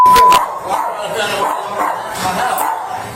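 A dog barks and yips repeatedly during a police raid, loud and close, amid agitated voices and commotion.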